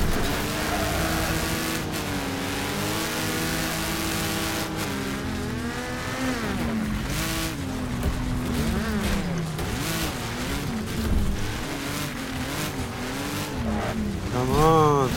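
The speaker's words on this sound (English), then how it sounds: "Race car." A race car engine revs and whines in a demolition racing video game, pitch rising and dropping continuously through shifts and swerves, with occasional tire scrubbing and crashes under a steady roar.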